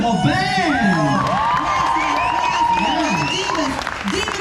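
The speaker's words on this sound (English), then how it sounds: "Please give a huge round of applause for this incredible band." A concert audience at a Disney on Broadway show applauds and cheers loudly for the band, a dense sustained wash of clapping with whoops, while a singer's voice carries over the crowd.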